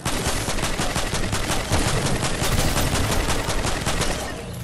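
Rapid automatic gunfire from a weapon in an online shooter video game, a dense loud stream of shots and bursts running continuously without speech.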